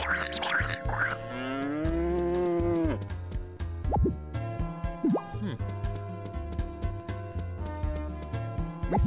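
A cow in Harvest Moon: Magical Melody gives one long, loud moo, followed by dripping, plopping liquid sounds and light game music.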